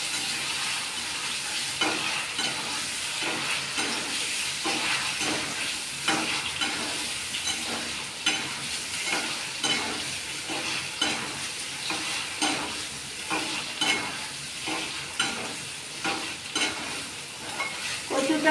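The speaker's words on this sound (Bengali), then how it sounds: "কচুটা আমি প্রথমে তেলে ভেজে নিচ্ছি, অল্প সামান্য 2-4 বার নেড়ে আমি কচুটা তুলে নেব।" Taro (kochu) fries in hot oil while being stirred, giving a steady, close sizzle broken by the regular scrape and clatter of the spoon throughout.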